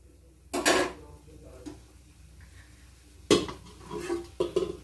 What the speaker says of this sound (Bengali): এটা এবার চাপা দিয়ে রাখলাম।